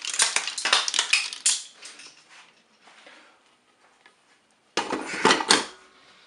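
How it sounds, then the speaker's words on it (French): Cooked mussels tipped and shuffled in a metal chinois strainer, giving bursts of clattering shell-on-metal rattles at the start, a quieter stretch, then another loud rattling burst near the end, with no talking. "je vais maintenant mettre les moules dans mon chinois. On va récupérer le jus."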